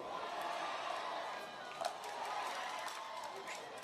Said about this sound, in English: you can hear the crowd going crazy about it